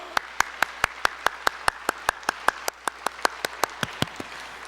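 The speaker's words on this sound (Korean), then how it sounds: "하나님께 다시 한번 큰 박수로 찬송을 드립시다" A church congregation claps in steady rhythmic unison, about five sharp claps per second for several seconds, moderately close in a reverberant room.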